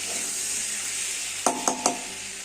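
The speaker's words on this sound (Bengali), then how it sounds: "এবার আমি টমেটো করে রেখেছিলাম টমেটোর পেস্টটা দিয়ে দিলাম" Fried potatoes sizzle softly in a pan as tomato paste goes in for a prawn curry, a quiet steady hiss broken by three sharp clinks of a utensil against the pan.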